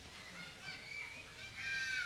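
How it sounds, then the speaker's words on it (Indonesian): Farm ducks being raised for breeding give a faint, distant chorus of quacks and calls that grows slightly louder toward the end, with no talk. "Itu itik Bapak Ibu."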